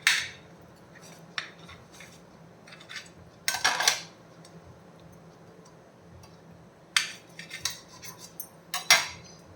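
A knife cuts a cooked, protein-rich traditional Gujarati dish into pieces, producing scattered close clinks and scrapes against a plate or pan, separated by quiet gaps.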